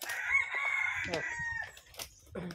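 A rooster crows once, loud and close, a long sustained call with a rising and falling tail, followed by a few softer clucks and faint background talk.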